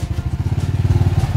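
A TGB IE 420 4x4 farm utility vehicle's engine revs on a steep mountain road, a loud, close, pulsing low throb with rapid regular beats that quicken slightly as the throttle opens.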